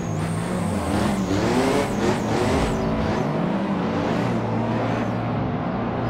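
A large four-door car drifts in the Assetto Corsa racing game, its engine droning loud and continuous with rising and falling revs throughout.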